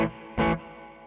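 Guitar through an IK Multimedia Tonex pedal with reverb, a single short strummed burst ringing out into a reverb tail; close and moderately loud, no voices.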